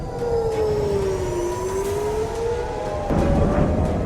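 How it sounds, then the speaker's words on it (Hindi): A wailing air raid siren drones loudly, its pitch slowly falling then rising again, with no voices. "वर्ल्ड वॉर का सायरन"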